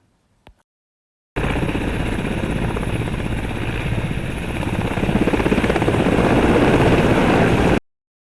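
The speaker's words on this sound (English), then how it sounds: "Helicopters are a really, really good option for hovering," A helicopter hovering in place, its rotor producing a loud, steady, pulsing drone that starts abruptly after a faint click and holds for about six seconds before cutting off.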